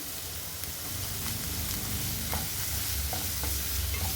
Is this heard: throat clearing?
no